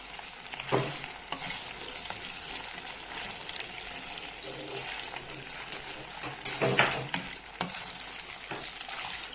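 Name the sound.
stirring pasta with minced meat sauce in a pan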